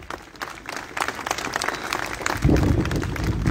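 A crowd applauds, clapping building steadily and growing louder and fuller toward the end.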